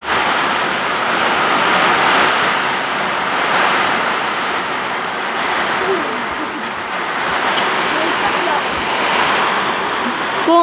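Heavy rain and strong wind from Typhoon Ulysses, a loud dense roar of downpour with gusts swelling and easing over several seconds, steady and close, no speech.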